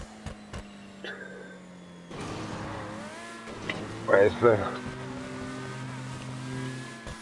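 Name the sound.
race car engine revving in Vortex racing game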